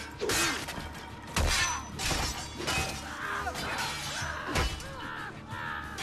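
Repeated smashing in Assassin's Creed II: several loud crashing impacts with shattering debris, spaced irregularly over a few seconds, close and punchy, with no voices.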